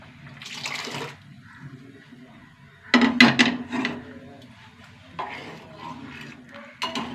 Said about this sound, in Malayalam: പരിപ്പ് ഒഴിച്ച് കൊടുക്കുക.